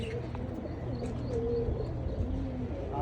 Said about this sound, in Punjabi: ਕਬੂਤਰ ਉੱਡੀ ਜਾਂਦੇ ਆ